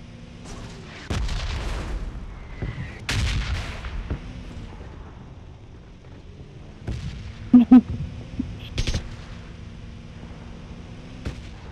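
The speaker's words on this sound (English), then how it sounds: "Who's shooting?" Gunshots in PUBG Mobile, with a few sharp isolated reports spaced out over quiet game ambience, some near and some more distant, and a brief voice in between.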